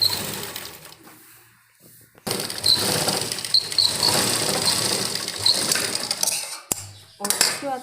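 An electric sewing machine stitching gathered and upper pieces of a nighty together, a brief whir at the start, then a pause, then a sustained run of close mechanical rattling that stops and restarts in short bursts near the end.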